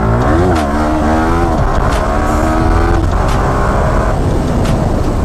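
A Yamaha R15M motorcycle revs loudly and close by, the engine note climbing and falling in several throttle blips with a harsh, steady drone.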